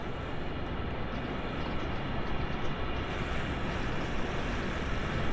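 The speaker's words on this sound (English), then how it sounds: "The train's just running round on its own now." Holiday express train in Train Sim World 3 runs on its own, a steady dense rumble and roar of engine and rails holding at an even level throughout, with no talk.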